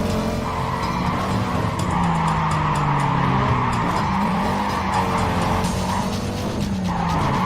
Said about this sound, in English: set this tire screeching noise of this car as my ringtone